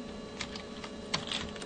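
A few soft keystrokes on a computer keyboard enter a clip start time in ringtone-editing software, sparse clicks over a steady background hum.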